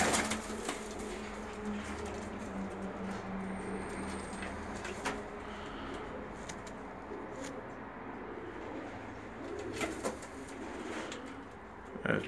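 Several Bulgarian-breed pigeons, short-legged birds wearing Bulgarian leg rings and bands, coo softly in a steady low murmur, with faint rustling and brief sounds of handling around them.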